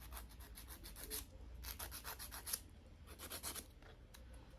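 A nail file rasps across an acrylic nail being reshaped during a fill, in quick bursts of short scratchy strokes, close but very faint, with no talk.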